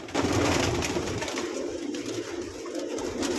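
Red check Bouchard pigeons at a pigeon sale coo steadily and close by, soft throaty calls repeating over a hum of other birds, with no talking.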